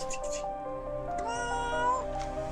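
A cat meows insistently nearby, a drawn-out plaintive call followed by shorter mews, with a person's voice faintly in the background.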